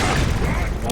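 Loud, blasting rumble from grenade explosions in the Black Mesa shooter game, a dense booming burst filling the short moment with no gap.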